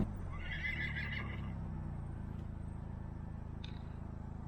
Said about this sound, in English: That cow makes a weird noise.